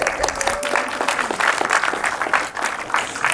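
Scattered applause from a conference audience at a Headless Drupal talk, a steady crackle of many hands clapping over about three seconds with a brief faint tone near the start.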